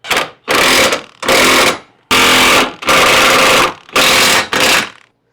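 An impact tool runs on the trailer hitch bolts and nuts of a 2005–2010 Honda Odyssey, sounding as loud, close bursts of whirring and hammering, six in a row, separated by short pauses.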